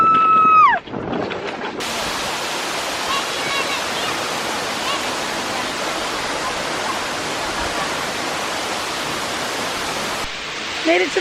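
A waterfall roars as a loud, dense, continuous rush that fills the scene for several seconds, with brief quieter moments at the start and end.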